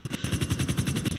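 Repeated gunfire bursts from a shotgun in FiveM, the GTA V roleplay mod, firing in a steady fast rhythm of about a dozen sharp reports, fairly close and moderately loud with no talk.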